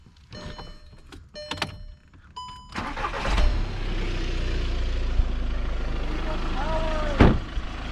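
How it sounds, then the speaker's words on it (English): A diesel Volkswagen Jetta TDI is started, with a whining crank and a few clicks giving way to a steady, loud idle that runs on, briefly rising near the end. "Do you want to start the Jetta so we're not draining the battery?"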